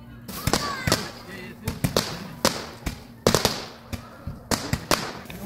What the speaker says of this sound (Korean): 저녁에는 또 저렇게 아이들을 위해서 불꽃놀이도 해주는 것 같아요